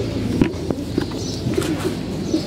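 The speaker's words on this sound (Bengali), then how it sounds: "আর এদিকে আমাদের কবুতরগুলা কিছু করছে" Domestic pigeons in a loft give repeated low, throaty coos close by, with a few soft wing movements and faint chirps against a steady background hum.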